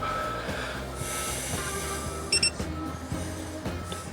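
A Haloview BT7 tire pressure monitor sounds its low-pressure alarm after a TPMS sensor is unscrewed, giving a short, sharp electronic beep burst midway through amid quiet handling and breathing noises.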